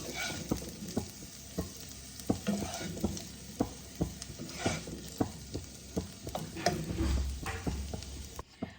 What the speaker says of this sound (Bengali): দেখো ফুলকপি, গাজর, বিনসগুলো আমার ভাজা হয়ে গেছে, আমি এগুলোকে তুলে নিচ্ছি।